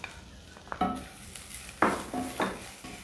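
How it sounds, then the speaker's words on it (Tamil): Grated coconut roasting in a pan for Ulli Theeyal, stirred now and then with a utensil. A soft, steady background sizzle is broken by a few scraping strokes against the pan, close up with no talk. "இந்த தேங்காய் நல்லா செவக்கணும்."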